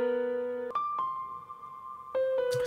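Synth piano right-hand part programmed in FL Studio: a steady sustained note, then a brighter held chord, another note and a final chord, each entering with a soft attack and ringing cleanly with no voices.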